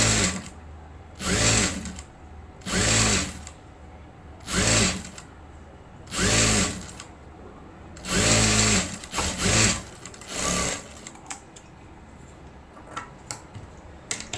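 A sewing machine stitches the back part of a blouse in repeated loud bursts of rapid mechanical whirring, about seven runs separated by short pauses, with no talking.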